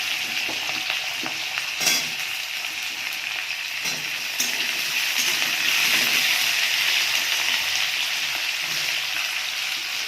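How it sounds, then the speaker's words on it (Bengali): Potatoes and pointed gourd hit hot oil over tempered spices and fry with a loud, continuous bright sizzle, punctuated by a few quick stirring clicks. "এবার আমি আলু পটলও তুলে দিচ্ছি।"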